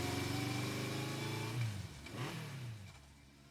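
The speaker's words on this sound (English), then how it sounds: "Took off on her motorcycle." A motorcycle engine revs hard in the Steins;Gate 0 video game, then its pitch swoops and fades as the bike pulls away, loud and close at first and dwindling into the distance, with no voices.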